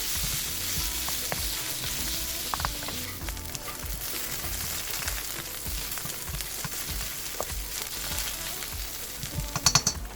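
Shiitake mushrooms frying in a hot pan, a dense, steady sizzle with occasional stirring scrapes and clicks, close-up and fairly loud with no talking.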